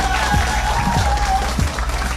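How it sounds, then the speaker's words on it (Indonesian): A business-talk audience applauds to welcome a speaker, with dense, steady clapping filling the room, loud and sustained, while a voice rings out over it. "Sambut dengan tepuk tangan yang paling meriah boleh untuk Bapak Haryandy Tawan"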